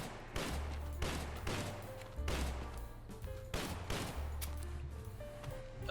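Gunfire in the Gorebox sandbox game, a string of sharp regularly spaced shots about half a second to a second apart, fairly close, over a low droning backdrop.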